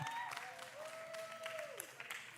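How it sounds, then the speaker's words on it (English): Audience applause at a live event, a moderate steady patter of hands lasting a couple of seconds with a faint whistle-like tone running through it. "And so if you can, go ahead and give me a hand clap for Miss Belinda LeBlanc and Miss Sammy Guti"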